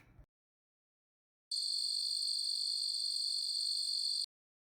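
A cricket chirps as a steady, continuous high-pitched trill, loud and close, with no other sounds around it.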